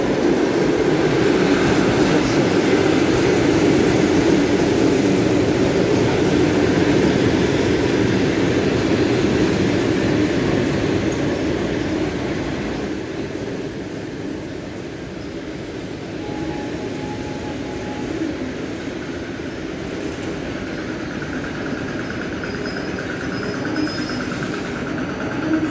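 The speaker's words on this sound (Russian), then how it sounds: "обычная электричка" An ED4M electric commuter train rumbles loudly and steadily as it arrives at Losinoostrovskaya station, easing slightly partway through, with a faint high squeal of brakes toward the end.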